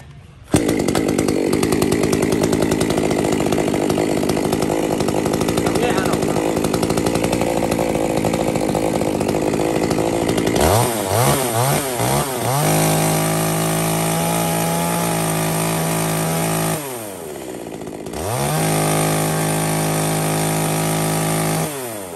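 A Makita ME230T 23cc chainsaw, a light 2.5 kg Japanese saw, runs loud and close, holding a high buzzing idle, then revving up and down in several swells before settling back.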